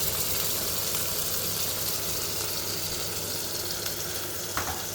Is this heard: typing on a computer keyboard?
no